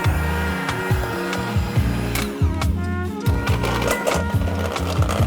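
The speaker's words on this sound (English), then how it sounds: "Granny mixer, vroom vroom." An electric hand mixer creams 4 tablespoons of butter in a bowl, its motor running steadily and loudly, with rhythmic rattling and scraping of beaters against the bowl throughout.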